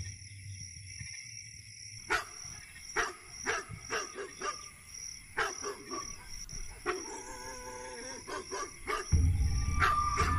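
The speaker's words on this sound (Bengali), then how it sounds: "কুকুর ডেকে উঠেছে দূরে কোথাও" A dog barks repeatedly in irregular bursts, some single yaps and some quick runs, over a quiet night background with a low rumble at the end.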